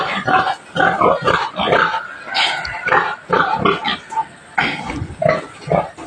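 Pigs on a farm squeal and grunt in loud, overlapping bursts, close to the microphone, continuing throughout with little pause.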